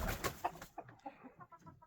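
Brahma chickens clucking in a cold coop, a few soft close clucks and low murmuring calls trailing off after a brief louder burst at the start.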